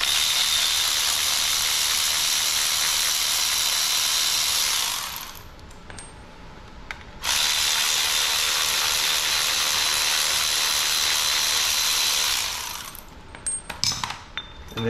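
An air ratchet spins bolts out of an ATI balancer on a 6.0 LQ9 engine, a loud, high, buzzing whir running in two long bursts with a short pause between and brief rattles at the end.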